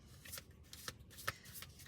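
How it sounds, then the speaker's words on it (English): A deck of angel oracle cards being shuffled by hand, with a run of crisp riffling flutters and soft slaps over about two seconds, close and moderately quiet, no voices. "I'm just gonna shuffle them"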